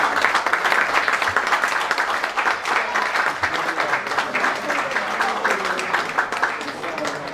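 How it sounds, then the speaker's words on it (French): Audience applause for athletes at an event about Haiti at the Paris Olympic Games, a thick, steady wash of clapping from a sizeable crowd that holds at an even level for several seconds. "Et nous vous demandons de faire un gros applaudissement pour les athlètes"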